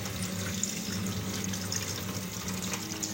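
Water runs steadily from a tap while brain is washed by hand, a close, continuous splashing stream with no talking.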